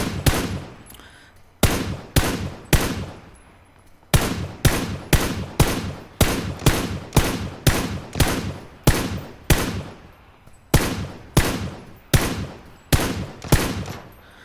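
Bursts of PUBG gunfire ring out in rapid, evenly spaced sharp shots grouped in volleys with short pauses between, loud and close with no speech.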